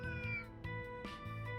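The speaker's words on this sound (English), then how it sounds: "Ah, it's a cat. Oh, there's a little cat over there." A cat meows a few times in the video game Trails Through Daybreak, soft and near, over a steady layer of game music.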